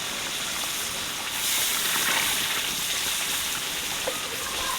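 Masala sizzling and frying in a large pot with water just added, in a big village batch of chicken leg korma: a steady broadband hiss that swells briefly and stays loud and close throughout.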